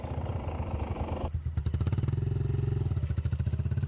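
A trail motorcycle ridden by newbie riders through a forest: a steady engine drone with rhythmic pulsing, rising into harder revving partway through, loud and close throughout.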